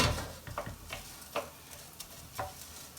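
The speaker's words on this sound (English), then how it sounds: "I'm just going to turn that heat up to toast this off a little bit and get the risotto cooked" Risotto rice toasts in a hot pan, giving a faint, steady sizzle broken by a few soft scraping stirs and light ticks at irregular moments.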